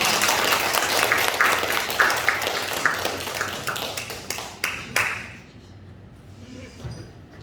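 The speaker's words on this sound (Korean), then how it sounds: "우리 박수로 환영하도록 하겠습니다" Applause welcoming a guest speaker at a Wednesday evening church service, a steady patter of many hands with sharp individual claps standing out, swelling and then fading to quiet by the end.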